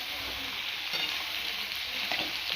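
Soybean and potato vegetables sizzle and fry in a pan, a steady close hiss with occasional stirring scrapes and no talking.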